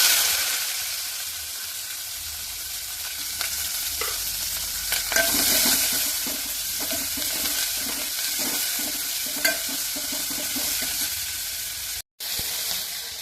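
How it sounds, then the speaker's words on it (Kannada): Curry leaves and onion sizzle in hot oil for buttermilk curry, a steady close frying hiss with crackles and stirring scrapes throughout, no talk. "ಇವಾಗ ಕರಿಬೇವು ಮತ್ತು ಆನಿಯನ್ ಆ್ಯಡ್ ಮಾಡ್ತೀವಿ"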